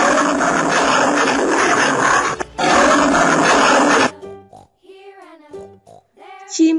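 A lion gives a loud, rough, sustained roar for about four seconds with a brief break partway through, followed by a short stretch of voiced sound.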